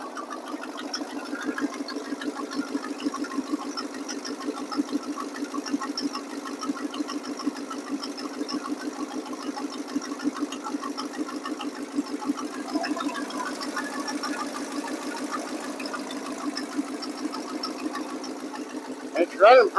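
A 1979 Chevrolet C30 Squarebody pickup engine idles steadily and smoothly, still cold after a carburetor rebuild, with a constant close rumble and fine rhythmic ticking for the full duration and a brief louder knock at the very end.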